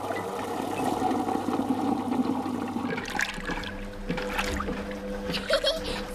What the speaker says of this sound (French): on met la machine en marche et elle se remplit d'eau mélangée à du savon